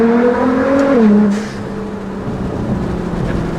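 A 2015 Nissan GT-R with a Meisterschaft exhaust, tune and GFB blow-off valves pulls at full throttle in a canyon, its loud engine tone climbing, then dipping through a gear change before settling into a steady drone.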